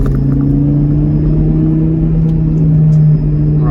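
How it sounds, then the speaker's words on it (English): A Volvo 850 pulls hard in second gear, its engine a loud, steady droning hum with a gently rising tone heard from inside the cabin, over low road rumble. "Right, second gear acceleration, then onto the motorway."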